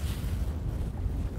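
Wind gusts over a big lake in late autumn, rumbling hard against the microphone as a low, steady buffeting, with no voices.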